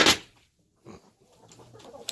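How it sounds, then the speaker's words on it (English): Egg-laying chickens on a farm give a loud cluck up close, then a pause, followed by softer clucking and rustling from the flock. "And here we got 23 chickens."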